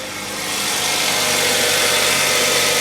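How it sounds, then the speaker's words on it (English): A 2001-2007 Ford Escape engine idles right after starting, a loud, steady, close mechanical hum and rumble that holds even throughout with no voices. "If I can get the key in the ignition. Let it idle a little bit there."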